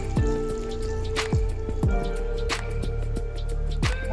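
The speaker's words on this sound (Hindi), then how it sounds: "तो देखिए अब मैं इसके ऊपर ठंडा पानी डाल देंगी" Cold water is poured over spinach in a kitchen, making irregular drips and splashes over a steady low background, each drop landing close and clear.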